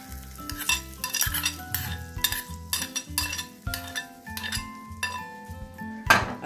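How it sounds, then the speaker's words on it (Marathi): Curd rice topped with a hot tempering is stirred in a pot: repeated scraping strokes and soft clinks with a light sizzle, close by, running under steady background music. "फोडणी घालून घेऊया याच्यावरती।"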